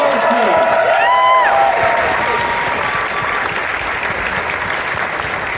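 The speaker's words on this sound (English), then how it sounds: "Round of applause, please." Sustained applause from a convention opening-ceremony audience fills the room, with a voice briefly heard over the start before the clapping continues on its own.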